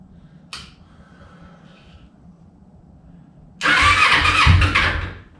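A Kawasaki Ninja 250 motorcycle engine with open-bore carburetors choked by hand sits quiet with a few faint clicks, then abruptly fires and roars loudly and raggedly for about two seconds before easing off.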